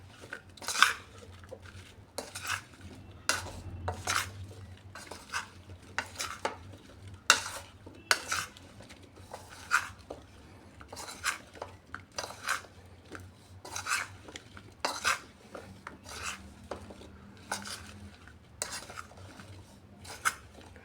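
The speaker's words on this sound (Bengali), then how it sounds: "এবার এটাকে ভালো করে মিক্সড করে নিচ্ছি" Okra tossed with spices, cornflour and sesame in a bowl, a steady run of repeated scraping and clattering strokes of a spoon against the bowl, close and fairly loud, with no one talking.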